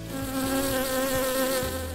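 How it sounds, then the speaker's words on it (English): Bees gather nectar in a scenic town park, a steady close insect buzz with wavering tones that rises and falls, heard alone. "the bees gathering nectar in the park"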